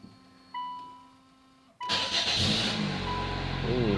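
Nissan Sentra engine cranking for its first startup after a head gasket repair, with a faint whine and quiet idle before a sudden catch into a steady, close running drone that holds to the end.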